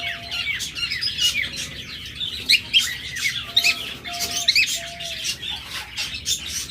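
A pair of lovebirds, one violet mask and one blue mask, keeps up shrill chirps and squawks in a busy, overlapping chatter, close and fairly loud, with brief whistled tones and a little wing flutter.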